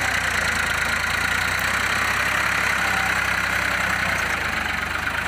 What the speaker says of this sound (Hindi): फॉर्म 45 है, दो नंबर गियर में चल रहा है भाई